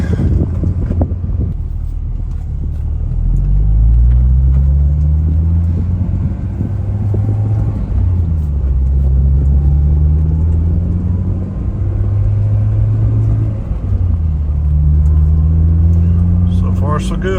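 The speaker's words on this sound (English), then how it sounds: "Cold start. Let's see what happens here." A 2006 Honda S2000 engine idling after a cold start, a close, low, steady rumble whose pitch swells and sags several times, with some wind buffeting on the microphone.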